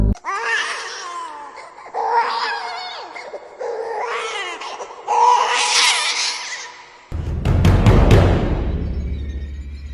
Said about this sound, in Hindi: ठीक उसी खामोशी के बीच एक बच्चा रो रहा था